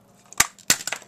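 A Stampin' Up ink cartridge snapping into a stamp wheel gives two sharp plastic clicks close by, followed by a few smaller rattling taps.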